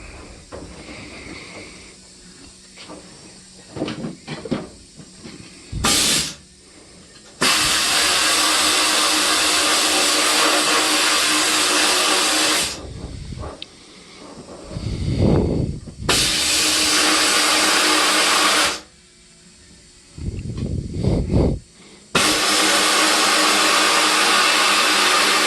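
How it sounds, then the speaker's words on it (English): Loud, harsh hissing blasts of compressed air and grit in a blast cabinet stripping a Chevy A-body tachometer, in bursts of several seconds, separated by quieter shuffling and handling noises. "put it in the blast cabinet and get everything stripped down the best I can"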